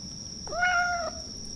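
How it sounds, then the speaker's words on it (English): A cat gives a single clear meow at mid-distance, lasting about half a second, against a quiet background with a steady high electronic whine. "Oh, I hear a cat."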